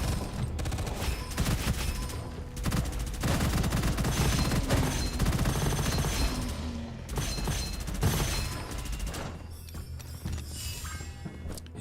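Pistol gunfire in a video game, switching between single and double shots, loud sharp reports in quick uneven bursts over nearly twelve seconds with mechanical clatter between them and no talking.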